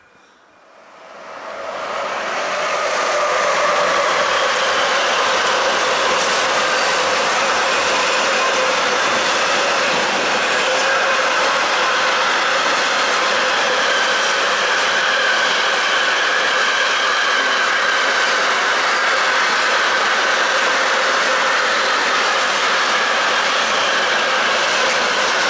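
A train rolls through Karlstadt railway station in Germany, rising quickly from quiet to a loud, sustained roar of wheels and wagons with rhythmic clatter and occasional squeal, continuing close by throughout.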